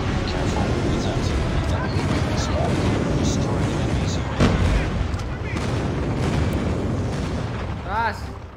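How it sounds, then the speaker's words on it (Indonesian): Airstrike explosions in a Call of Duty multiplayer match, a dense continuous barrage of booms and gunfire-like bursts with a sharper blast near the middle, running under in-game voices and player chatter. "Enemy airstrike incoming."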